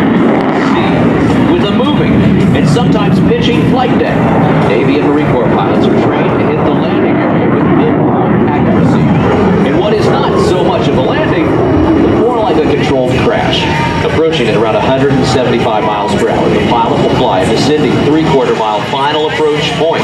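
An F/A-18C Hornet jet flying a demonstration at the 2016 NAS Patuxent River Air Expo, a loud broad roar rising and churning throughout, under a narrator's voice.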